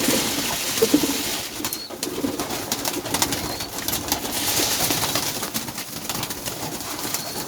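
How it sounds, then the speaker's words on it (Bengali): Racing pigeons feeding keep up soft, repeated cooing close by, with occasional wing flutters and pecking rustles over a steady background hiss and no talking. "দেখেন কবুতরগুলো খাওয়ার জন্য ব্যস্ত হয়ে গেছে"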